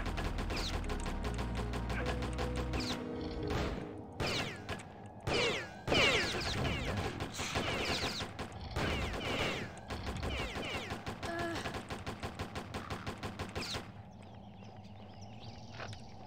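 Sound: shotgun fire in the video game Postal

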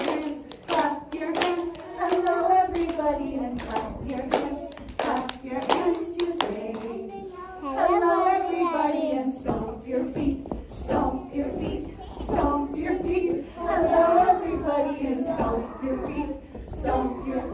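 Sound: children clapping hands

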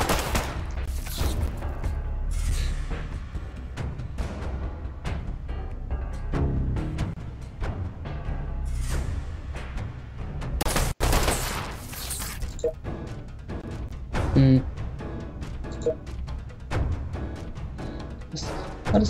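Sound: gunfire from a .32 pistol in Fallout Shelter video game

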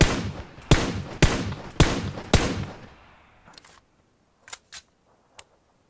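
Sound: gunfire on single fire in a shooter video game

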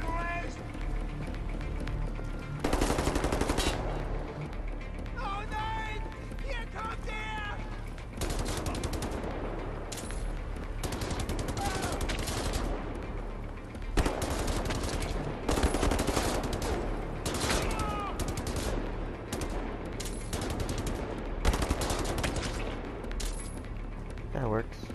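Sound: gunfire in video game Wolfenstein: The New Order

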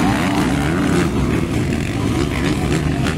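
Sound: motocross motorcycles racing

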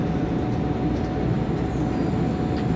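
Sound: train running in video game Train Simulator 2020

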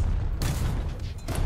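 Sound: tank gunfire in War Thunder video game

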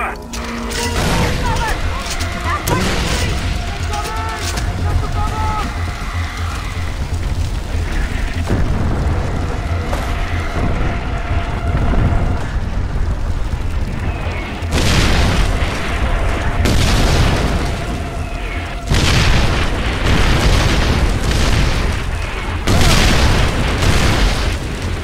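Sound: artillery shelling explosions in the video game Far Cry 4

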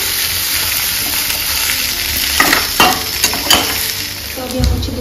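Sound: chicken frying in hot oil in a kadhai

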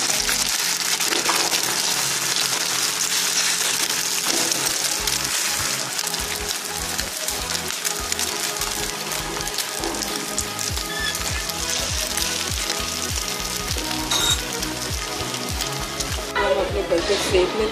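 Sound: beaten egg sizzling on hot oiled griddle

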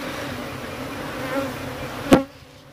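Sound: Apis cerana bees buzzing during honey harvest

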